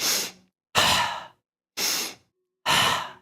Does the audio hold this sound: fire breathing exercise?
yes